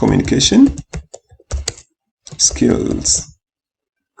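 Close computer keyboard typing as someone writes a reply in an online discussion forum, quick bursts of clicks in uneven clusters with short pauses, heard amid nearby speech.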